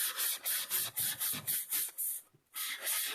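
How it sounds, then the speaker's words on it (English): A fine 400 grit sanding block rubs inside a cup in steady back-and-forth strokes, about a dozen close, even scratchy passes with one brief pause near the end. "when you take the fine 400 grit block and you put it in there, it gets it all smooth back out"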